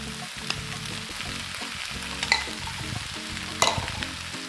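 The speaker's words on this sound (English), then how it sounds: "I'm gonna add a little bit of oil, and then I'm gonna stir in all of this lovely black bean paste." Black bean paste stirred into hot oil, a steady close sizzle with soft rhythmic scraping strokes and a few sharp clinks of the utensil against the pan, with no voices.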